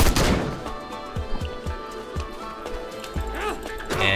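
Gunfire aimed at a werewolf in the video game Sang-Froid, heard as a burst of loud, close shots at the start, then rapid thudding hits in a busy game soundscape.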